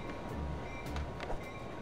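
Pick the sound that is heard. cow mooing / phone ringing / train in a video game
train in a video game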